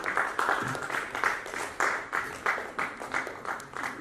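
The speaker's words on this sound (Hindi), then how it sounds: "हमारे इन साथियों के लिए भी जोरदार तालियां होनी चाहिए आप सबकी तरफ से" An audience in Jaipur claps for women guests invited on stage at a charity trust's national honours ceremony, a moderately loud applause that swells and fades in repeated pulses, with no voices over it.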